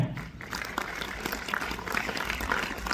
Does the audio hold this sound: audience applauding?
yes